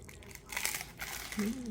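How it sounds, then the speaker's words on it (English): A crunchy keto taco shell, filled and topped with La Victoria sauce, is bitten, giving a short burst of close crackling and crinkling crunches, with a brief vocal sound near the end. "So crunchy."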